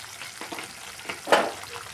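Eggplant masala with nuts stir-fried in a pan, a low continuous sizzle with soft spatula scrapes and one louder scrape near the end, close and without voices.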